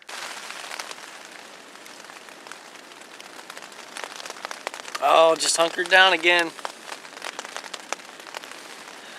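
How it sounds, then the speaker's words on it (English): Steady light rain patters on surfaces at a spring riverside campsite, with someone speaking briefly over it midway. "Got more rain coming in."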